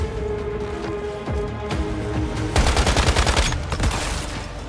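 Gunfire in the shooter game Once Human: a rapid burst of automatic shots, loud and close, following sparser single shots and impacts earlier on, with no talk.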